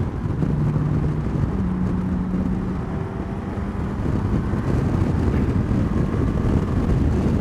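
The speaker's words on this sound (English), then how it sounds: "Let's drop this thing into fourth gear and to see how it accelerates." A Honda Goldwing motorcycle accelerating in fourth gear gives a steady, smooth engine drone under heavy wind rush, loud and continuous with no sharp surges.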